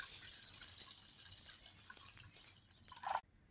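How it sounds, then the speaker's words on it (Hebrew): Tap water runs and drips into a pot of rice for a rice, barley and pea dish, with scattered drips building to a brief louder splash before stopping abruptly. "מוסיפים מים."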